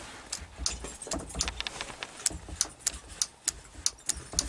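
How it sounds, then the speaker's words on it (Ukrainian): Relay in a VW T3 van clicking in a steady series of sharp, faint ticks about three per second over a low background hum, with no talk. "реле клацає"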